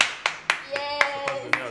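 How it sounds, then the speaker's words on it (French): Slow, deliberate hand clapping, about seven distinct claps at a steady even pace, close and clear, with a faint sustained tone in the background. "Applaudis pour ça, ma chérie."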